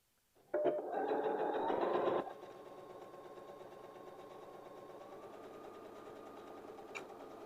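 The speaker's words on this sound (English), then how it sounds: "the first stitch I want to show you is a regular straight stitch on your machine" A sewing machine sews a regular straight stitch on T-shirt fabric, starting with a loud close whir that drops to a quieter steady hum for the rest of the run.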